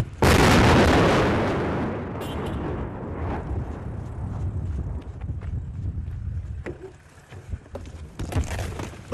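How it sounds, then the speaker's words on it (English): An artillery shell lands nearby during the war in Ukraine: a loud, close explosive blast opens, then rumble and debris noise roll on and slowly fade, with a few smaller cracks and knocks afterwards. "Listen here for the sound of the whistle, then the bang."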